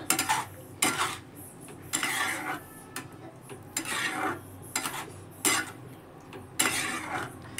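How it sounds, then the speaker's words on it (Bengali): Achari paneer in a yogurt masala with pickle spice being stirred with a metal spoon in a pan, giving repeated scraping and clinking bursts in an uneven rhythm, close and fairly loud with a faint sizzle underneath. "তো এটাকেও আমি ভালো করে নেড়ে চেড়ে মিক্স করে নেব।"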